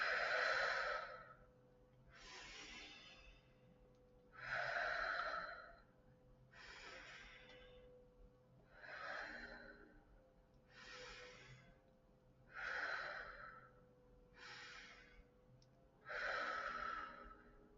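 Slow, deliberate breaths during a calming hand-tracing exercise, about eight audible inhale-exhale cycles spaced roughly two seconds apart, soft and close with airy sighing exhales and no speech.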